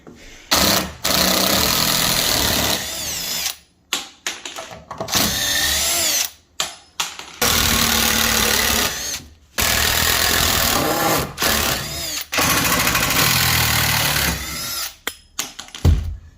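A power drill backs screws out while a dog house is taken apart indoors, running in long loud whirring bursts broken by brief pauses and quick trigger restarts, very close, with no speech.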